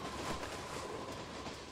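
A train rolls past in the BrickRigs video game, a steady broadband rumble and rattle with faint clickety-clack, loud and continuous throughout with no talk.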